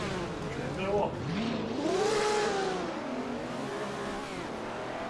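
A race car engine in the Assetto Corsa racing game at the Nordschleife climbs from a growl into a howling, yowling whine, revving up and easing off in sweeping pitch changes, loud and continuous.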